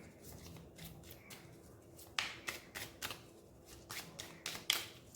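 Tarot cards are shuffled and drawn by hand in a series of soft, papery riffles and flicks, with a few sharper snaps near the end, quiet and close with no talking.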